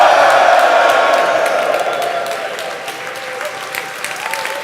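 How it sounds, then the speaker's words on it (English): A crowd at a hackathon award show bursts into applause and cheering, with loud clapping and whoops at the start tapering gradually into scattered claps. "huge round of applause"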